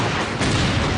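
Explosions set off during a large action sequence for the 24 prequel filmed in Africa, a dense, continuous roar of booming blasts and rumble that stays loud throughout, with a sharper burst about midway.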